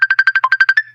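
A phone ringtone plays a rapid string of about ten clipped electronic beeps at a steady pulse, loud and close, ending in a short trailing tone.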